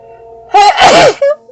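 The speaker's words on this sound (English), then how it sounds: "I'm going to sneeze." A person sneezes once, loud and close, with a short breathy intake leading into the burst and a small tail afterward.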